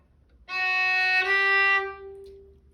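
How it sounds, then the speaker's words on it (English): A bowed string instrument plays two notes without a slur, each taken with its own bow stroke. The sustained tones sound alone, with a short break and a fresh attack partway through. "you would use 2 separate bows to play the 2 notes"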